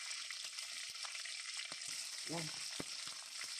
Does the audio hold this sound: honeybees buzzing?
no